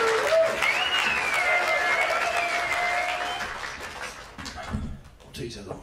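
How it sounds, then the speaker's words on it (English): A live comedy-show audience claps for a guitar, broad applause that holds strongly and then thins out toward the end, with a voice and a whistling tone over it. "So I want you to give a big round of applause, please, for the guitar."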